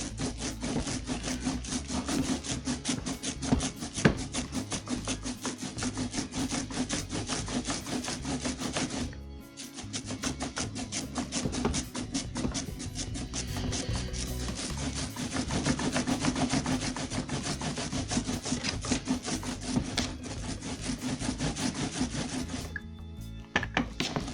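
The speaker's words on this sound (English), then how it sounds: "the ink, when you roll it, sounds like Velcro" A steady, continuous sticky, Velcro-like crackling rasp of an ink roller rolled back and forth for lino printing, close up, with a brief pause partway through and no talking.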